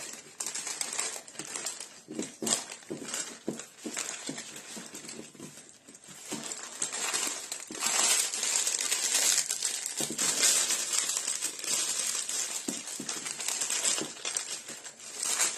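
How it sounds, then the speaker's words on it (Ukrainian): Aluminium foil crinkles and crunches continuously as it is wrapped around a cheese roll filled with minced meat and cheese, close up and fairly loud, with no talking. "А тепер ще у фольгу замотаємо і будемо випікати."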